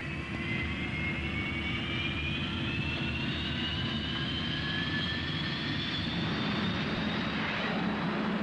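Rotodyne compound gyroplane engines roaring loudly and continuously at takeoff, a dense broadband drone with rising whining tones that swell in pitch toward the end.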